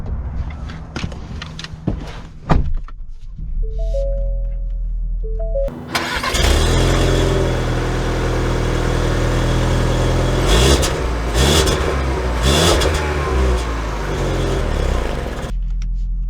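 A 2022 Ford Explorer Timberline is started, with clicks and a chime first, then the engine cranks and catches into a loud, steady idle and rumble that swells as the SUV pulls away.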